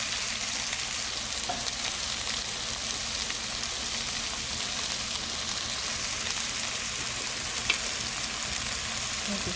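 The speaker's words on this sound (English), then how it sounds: "the peas, corn, saute that" Peas and corn sauté in a hot pan, giving a steady, even sizzle that hisses on without pause and without any voices.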